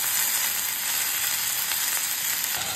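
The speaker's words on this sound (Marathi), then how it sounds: "त्याच्यामध्ये मेथी टाकल्यानंतर मेथी परतून घ्यायची, जराशी मेथी कमी होऊ द्यायची" Fenugreek leaves sautéing in a pan for methi bhaji, a steady, close and fairly loud frying hiss that carries without pause.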